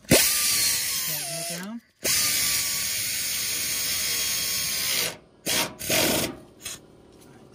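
An air gun tightens a brake hose fitting on a Ford F-series truck, whirring loudly in several bursts of differing length with short gaps, close by, with a brief voice near the start.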